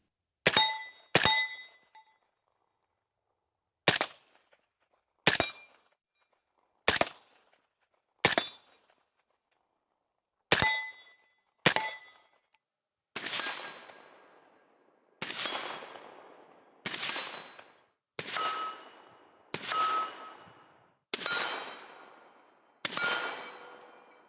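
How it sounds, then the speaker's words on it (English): AR-15 rifle shots ringing off steel targets outdoors, about fourteen sharp reports at irregular intervals, each followed by a metallic clang, with later shots trailing longer echoes, loud and with no talk. "Shooting an AR-15 is always fun, especially when there's steel targets involved."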